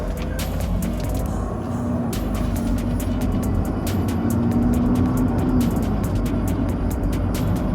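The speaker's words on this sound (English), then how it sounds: "How's that engine sound, dude? Sounds like a diesel." A steady, low diesel engine rumble from a Mercedes OM606 engine runs throughout with clicking and ticking on top, close by and fairly loud, no talking.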